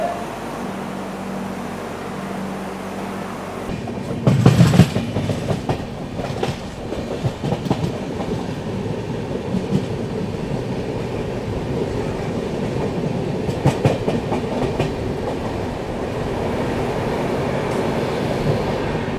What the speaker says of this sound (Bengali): আমাদের ট্রেন এই মুহূর্তে ছেড়ে দিল অযোধ্যা ধাম জাংশন।